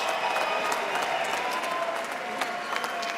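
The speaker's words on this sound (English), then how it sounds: "let's have a round of applause for these two welterweight warriors" A crowd at a bare-knuckle fight event in Dubai applauds and cheers for two welterweight fighters in a dense, continuous roar of clapping with sharper individual claps standing out.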